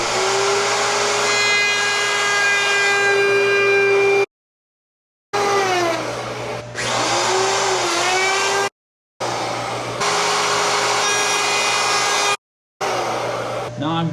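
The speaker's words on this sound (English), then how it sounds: "I have to router these fronts and sides with a bull nose." Handheld router cutting a bull nose profile along the front and side edges of a wooden wine rack, a loud, steady high whine in three passes split by short silent breaks, pitch dipping slightly as the bit loads.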